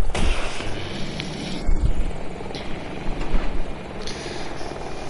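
A military helicopter in a war video game roars with steady rotor thump and engine drone, loud and continuous, with faint distant explosions beneath.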